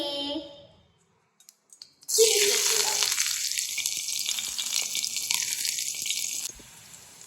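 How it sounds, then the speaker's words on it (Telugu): Onions dropped into very hot oil in a home kitchen, a sudden loud sizzle that erupts and holds steady with crackling spatter before easing off near the end, preceded by a brief voice and small clicks. "ఆనియన్స్ వేసేసుకున్నాం ఆయిల్ అయితే గరం గరం ఎక్కింది చాలా గరంగా ఉంది"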